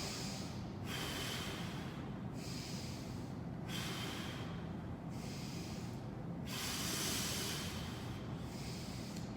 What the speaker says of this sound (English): Control that breathing, deep breaths in.